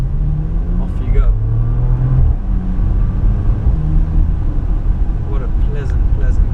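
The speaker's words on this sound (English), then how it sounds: "if I put my foot down now, off you go." A turbocharged Porsche Macan Turbo SUV revs up and pulls away, a low rumbling drone rising in pitch with a faint whoosh, steady and close throughout.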